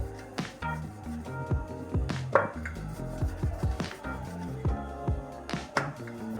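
Puris being rolled out one by one with a rolling pin on an oiled chopping board, a close run of irregular wooden knocks and taps with soft rolling scrapes between them, no talking.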